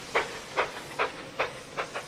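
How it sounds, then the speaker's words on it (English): A steam engine chuffs off at a steady pace, five or six evenly spaced hissing puffs of moderate loudness with no voices. "And Mighty Mac chuffed off"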